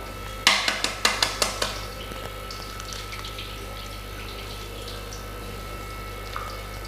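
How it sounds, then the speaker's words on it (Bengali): An egg is cracked into a bowl while making Bengali rui fish chop. A quick run of sharp, close taps and clicks sounds, then the clip goes quiet apart from faint room noise. "এর মধ্যে একটা ডিম ফাটিয়ে নেব।"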